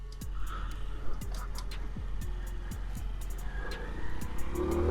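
A 1995 Honda CD50 Benly motorcycle gets up to speed, its small engine whining upward in repeated rising sweeps as it shifts through the gears, with ticking mechanical clicks and close, steady noise.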